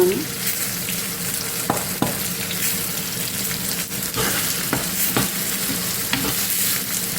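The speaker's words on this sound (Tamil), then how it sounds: "நான் கொஞ்சம் நேரம் வதங்கட்டும்" Steady sizzling and frying of spices in a pan for ridge gourd egg gravy, with occasional scraping clicks from stirring; continuous and close, no voices.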